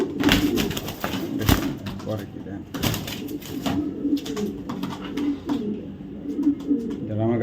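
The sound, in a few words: racing pigeons cooing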